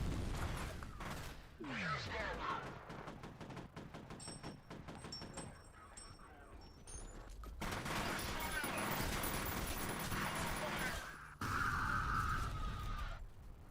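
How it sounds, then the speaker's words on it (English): A video game firefight: bursts of rapid gunfire and heavy blasts, including a grenade explosion, come loud and close in clustered volleys with brief lulls between them. "Grenade."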